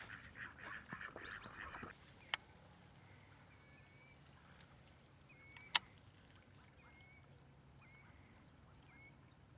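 Ducks by a pond give soft, scattered quacks and squeaky calls at a distance, quiet and intermittent over faint ambient background with a few sharp knocks.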